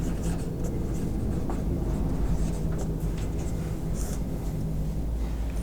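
A pen writing out a statement by hand, making faint scratchy strokes and brief taps under a loud, steady low rumble of background noise, with no clear speech.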